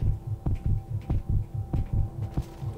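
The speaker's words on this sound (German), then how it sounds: "Hört ihr meinen Herzschlag?" A heartbeat sounds in the video game Prey, a steady, low, thumping double pulse repeating evenly about twice a second, close and prominent, with no speech.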